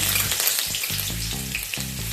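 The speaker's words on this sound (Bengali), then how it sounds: "হয়ে গেলে এর মধ্যে আমি ওয়ান টেবিল স্পুন থেঁতো করে রাখা রসুন অ্যাড করে দিচ্ছি" Crushed garlic frying in hot oil for a goat meat chochori, a close, dense crackling sizzle with steady bubbling pops throughout, no voices.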